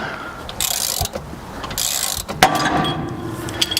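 A compressed front coil spring on a 1963–87 Chevy truck lets go with a sudden sharp pop amid close metallic ratcheting and scraping of tools, loud and near, with no talking.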